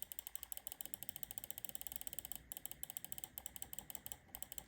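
Rapid, evenly spaced clicks from a gaming mouse with Huanu Black Shell blue dot switches, sharp and close, fired in a fast continuous run with a couple of short pauses.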